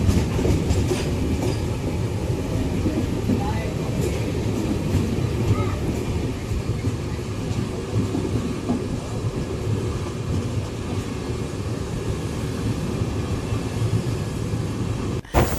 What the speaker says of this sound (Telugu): కేరళలో మన ట్రైన్ చాలా టర్నింగ్లు కొడుతోంది